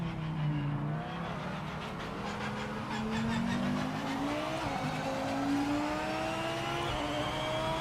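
GT3 race car in the Project Motor Racing video game, its engine droning steadily with rising pitch sweeps as it accelerates through gear changes, heard alone with no talking.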